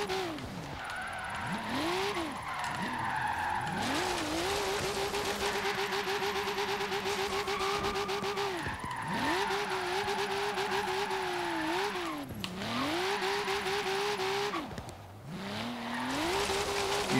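Car drifting in Forza Horizon 3: engine revs rise and fall in repeated swoops as the car slides, with a continuous tire skid hiss running through the whole run.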